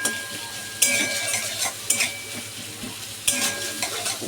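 Salted vegetables stir-fried in a pan, sizzling under repeated scraping strokes of a metal spatula, with sharp clinks against the pan every second or so.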